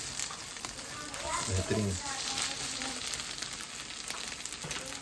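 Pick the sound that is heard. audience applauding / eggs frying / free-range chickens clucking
eggs frying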